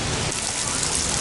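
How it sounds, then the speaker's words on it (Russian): Dense continuous splashing of falling water, like a fountain pattering onto a surface, steady and close. "Нет, наверное, все же фонтан."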